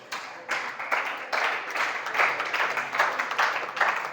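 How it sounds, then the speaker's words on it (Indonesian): Students at a communication-skills seminar for santri at SMK La Tansa Banten applaud a classmate, with a steady wash of many hands clapping close by that swells in uneven bursts and carries on for several seconds without talk. "Tepuk tangan buat rekan kita"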